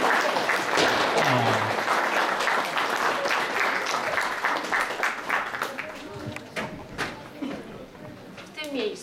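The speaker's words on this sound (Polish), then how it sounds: "O, wielkie brawo." Audience applause and cheering open the fifth Kurtyna theatre tournament, loud at first, then fading into scattered clapping while voices mix in.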